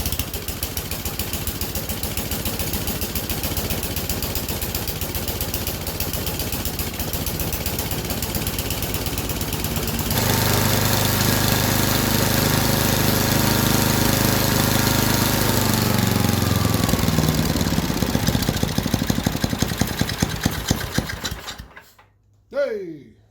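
A snowblower engine fitted with a replacement carburetor cranks and catches, then revs up louder and runs roughly with a rapid, uneven chug before cutting out near the end.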